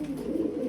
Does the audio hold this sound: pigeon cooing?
yes